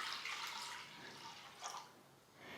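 Water is poured from a measuring cup into a kadai for Chettinad paal kozhukattai, a faint splashing trickle that swells and fades in a couple of soft bursts.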